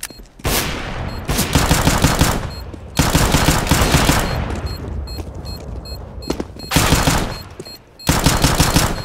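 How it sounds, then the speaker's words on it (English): Rapid automatic gunfire in a shooter game comes in several loud, close bursts separated by brief pauses, with single sharp shots between the longer volleys. "All those shots missed, really?"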